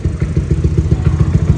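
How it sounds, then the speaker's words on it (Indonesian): A Yamaha Aerox scooter with a bored-and-stroked engine of nearly 300cc idles steadily, close up, in a loud, even low-pitched putter of regular beats, with light mechanical clatter on top and no talk. "Kita diemin dulu sambil idle kayak gini."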